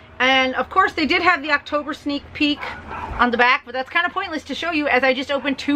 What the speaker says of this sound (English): Sorry about the crazy dogs.